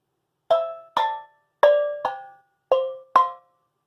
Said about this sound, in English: calypso music often uses steel drums